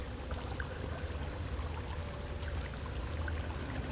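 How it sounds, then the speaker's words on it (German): River water flows steadily in the Sons of the Forest game, a continuous broad rushing wash with no voices, even and moderately loud throughout. "Das fließende Wasser führt mich"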